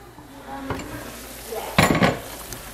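Chicken pieces braising with wine under a lid in a pan give a low simmer, then a short burst of sizzling with a metallic clatter near the end.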